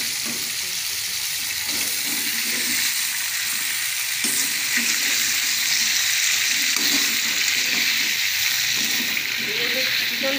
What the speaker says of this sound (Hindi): चिकन को हम लाइट ब्राउन करेंगे।